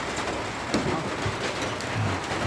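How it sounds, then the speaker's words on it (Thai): Rain pouring over an open rice field, a steady dense hiss of drops with a few heavier spatters and low rumbles underneath, continuous and fairly close. "โอ้ฝนตกบรรยากาศดี"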